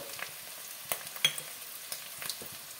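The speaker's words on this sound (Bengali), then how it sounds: "দিয়ে দেবো পরিষ্কার করা শামুকটা, একটু ভেজে দেবো তেল পেঁয়াজের সাথে" Cleaned snails frying in oil with chopped onion in a pan, a faint steady sizzle broken by a few sharp utensil clinks and stirring scrapes, no voices.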